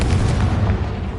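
Confringo blasting spell explosion in Hogwarts Legacy, a heavy, low rumbling boom that stays loud and fills the short moment with a deep roar before starting to fade.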